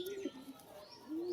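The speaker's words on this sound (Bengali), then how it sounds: "বিশাল কোয়ালিটির পায়রা," A pigeon coos softly twice, short low hooting calls heard faintly and close, with no other sound around.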